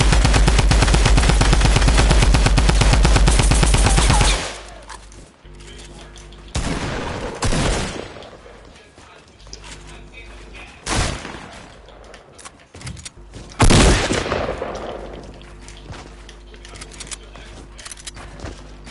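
Players shooting in a video game: a dense, loud barrage of rapid gunfire at first, then separate bursts and single shots at irregular intervals.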